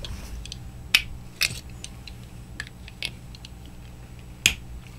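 A Waterman Expert fountain pen's snap cap clicks shut in a few sharp, close, quiet clicks spread over several seconds against a low background hum.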